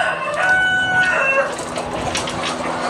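A rooster crows loudly in a chicken coop while hens cluck around it, one long crow rising and falling, then fading into scattered clucking from the flock.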